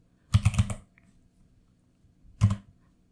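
Typing on a computer keyboard while entering terminal commands: a quick burst of several close key clicks, a pause, then another short cluster of keystrokes, crisp and alone.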